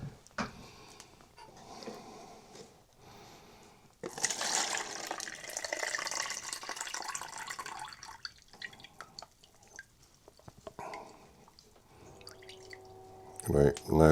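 Running water rinses freshly developed photographic film from a Nikon FM, a hissing flow rising midway and then tapering into scattered drips and splashes, with a person talking quietly in the background.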